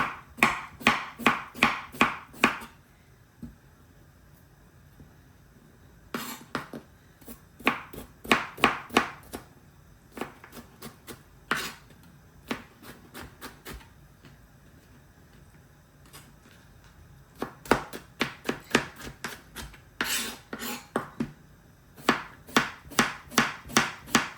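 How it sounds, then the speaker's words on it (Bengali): Vegetables being chopped for a salad on a board, quick bursts of sharp, evenly spaced knife taps separated by short pauses, close and crisp with no talking. "আমাদের মোটামুটি সব কিছু কাটা হয়ে গেছে"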